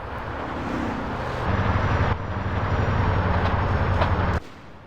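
Steady low rumble of a train driving along the tracks in GTA San Andreas, a continuous mechanical drone that swells midway and then drops off abruptly near the end.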